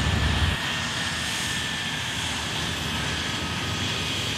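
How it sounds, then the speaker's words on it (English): Military aircraft engines on a flight line roar in a steady, loud, continuous drone with a high whine running through it, and a heavier rumble in the first half-second. "you don't know if there's going to be an aircraft behind you or a jet"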